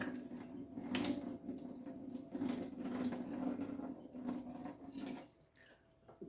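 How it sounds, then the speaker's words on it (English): Tap water runs steadily into a bowl of red beans being rinsed in a sink, a close, moderately quiet splashing flow that stops near the end. "So we're going to rinse them a couple times, then we're going to let them soak."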